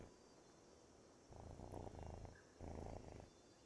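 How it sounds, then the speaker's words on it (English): A cat held in someone's arms purrs loudly and close, two long rumbling bursts of purring over quiet room noise, with no talking. "You purr so loud."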